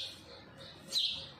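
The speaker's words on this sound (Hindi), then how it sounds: "और चिड़िया को खाना दे दूँ मैं, आई है बाहर, आवाज़ आ रही होगी आपको" A small bird chirping outdoors, a few faint high tweets with a brighter, slightly louder call near the end.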